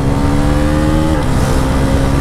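A 2025 Bajaj Pulsar NS 400Z, a 400 cc motorcycle, roars very loudly and up close as it works through the gears, its dense engine drone shifting pitch partway through, with no talk.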